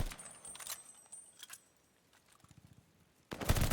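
Gunfire in a competitive video game match: a quick burst of shots near the start, scattered quieter pops in the middle, then a loud, dense volley at the end.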